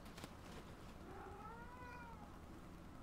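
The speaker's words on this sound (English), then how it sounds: "my cat's crying" A cat gives a single drawn-out meow that rises and falls, faint and some distance away under steady outdoor background noise. No one talks while it calls.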